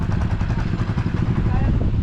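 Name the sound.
motorcycle engine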